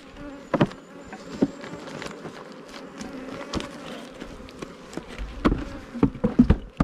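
Honeybees buzz around an opened beehive during an inspection, a close, wavering drone broken by scattered thumps and clicks from handling the hive.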